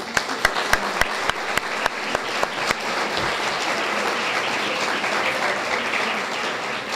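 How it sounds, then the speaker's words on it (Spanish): An audience applauds a staff member being introduced at a 2017 sports games team presentation in Curridabat. A few sharp early claps build into sustained, dense clapping from a crowd for several seconds. "Podemos darle un aplauso a Karina."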